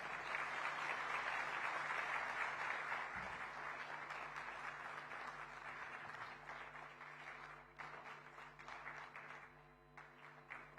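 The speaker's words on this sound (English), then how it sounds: "let that applause continue as we heard from the Chief Minister, Government of Maharashtra, Shri Devendra Fadnavis ji" Sustained audience applause after the Chief Minister of Maharashtra's speech at a chamber of commerce convention in Mumbai, steady dense clapping from a large hall that gradually thins toward the end.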